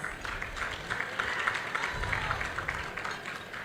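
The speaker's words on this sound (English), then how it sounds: "he deserves a round of applause" Moderate crowd applause at a Malawi football association awards night, steady clapping with faint cheering, heard from a middle distance.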